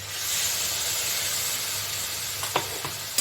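Spice-grinder bowl rinse water poured into a pan of frying drumstick curry, raising a steady loud sizzle and hiss, with a few sharp splashes and clinks near the end.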